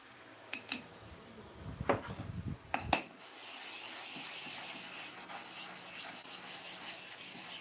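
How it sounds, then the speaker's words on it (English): Rasping strokes of a metal comb blade being sharpened back and forth, a few distinct scrapes in the first three seconds, then a steady faint grinding hiss alone with no talk. "So we have sharpened 50 times here, we have to repeat it here again."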